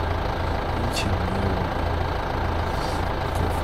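A tractor engine in Farming Simulator 2015 hums steadily throughout as a low, constant drone, with a person talking over it.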